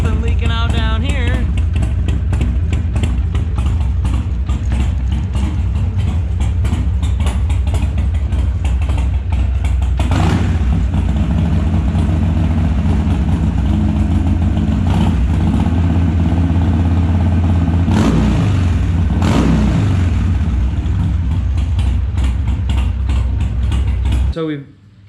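A Harley-Davidson Sportster motorcycle, freshly refilled with new oil and a new filter, idles loudly and steadily close by, with a few sharp throttle blips standing out over the continuous engine rumble.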